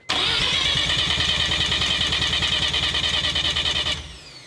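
A rotary car engine rebuilt with used parts and new apex seals cranks over without firing for a compression test, an even rapid pulsing starter rhythm, loud and close, stopping abruptly near the end.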